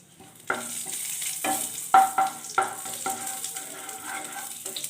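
Crushed cardamom frying in ghee in a wok for carrot halwa, a soft sizzle that swells after a start, punctuated by several spoon scrapes and knocks against the metal, close and without speech.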